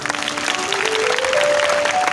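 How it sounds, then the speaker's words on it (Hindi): A Hindi church congregation claps loudly together during a pastor's sermon. The applause is brief, dense and steady, and a faint voice or tone rises beneath it. "ताली बजाएं"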